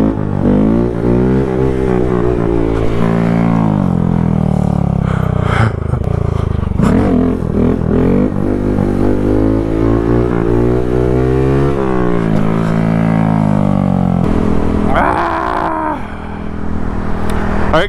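Honda Grom motorcycle engine revving hard and continuously during wheelies, loud and sustained with rising and falling pitch, a brief dip near the end before it picks back up.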